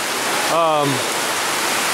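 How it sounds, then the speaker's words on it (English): Heavy rain falls outside in a jungle coffee-growing area as a constant, loud hiss of broadband noise. A brief tonal whine rises and falls in the middle. "it's really raining outside"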